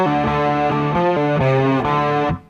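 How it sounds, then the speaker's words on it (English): An electric guitar plays a distorted chugging riff through a TC Electronic Afterglow chorus pedal, the repeated chords given a shimmering, wavering modulation before ringing out and cutting off. "I'm going to play the same riff again, this time turning on the chorus pedal."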